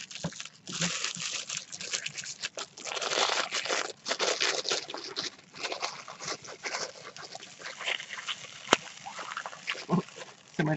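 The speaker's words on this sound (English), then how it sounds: "So much for me trying to make it easier so you didn't have to hear all my paper rustling." Paper rustles and crinkles close up in irregular bursts of crackling and crumpling as a card or note is handled, with short pauses between the handling noises.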